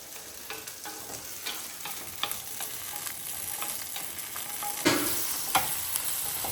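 Ingredients for kuzhambu sauté in a pan, a soft continuous sizzle broken by scattered scraping stirs and a couple of sharper clinks near the end, close and fairly quiet, with no speech.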